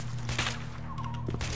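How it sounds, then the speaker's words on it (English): Steady crackle of automatic gunfire in the shooter STALKER: Shadow of Chernobyl, sharp overlapping shots over a constant low droning background, fairly distant and muffled. "Who the hell is shooting at us?"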